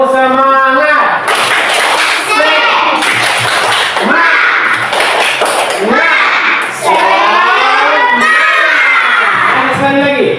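A class of fourth-grade primary school children in Indonesia performs the tepuk semangat clapping chant. Sharp rhythmic claps in short patterns come under loud, unison shouted chanting, close and energetic.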